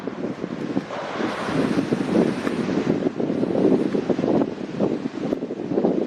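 Wind buffeting a microphone on a dune-side beach, a continuous loud rumbling gusting roar with uneven swells throughout and no voices.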